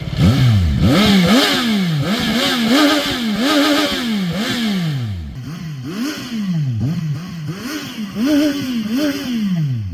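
A CFMOTO 675NK motorcycle engine revs repeatedly, pitch sweeping up and falling back in quick bursts, loud and close throughout.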